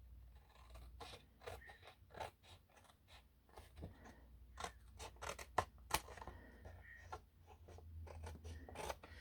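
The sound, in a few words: scissors trimming paper card edge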